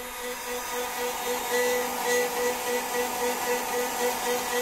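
Steady whirring drone of the cooling fans on a 2000 W pure sine wave inverter, a constant broadband hum with faint tonal whine, running alone with no voices.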